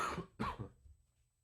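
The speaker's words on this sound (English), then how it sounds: "Got me starting to cough." Two harsh coughs close up, one right after the other, trailing off into quiet.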